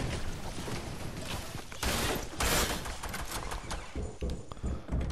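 Shotgun blasts in Fortnite amid a dense, loud burst of gunfire and clattering game effects, with heavier bangs near the two- and two-and-a-half-second marks.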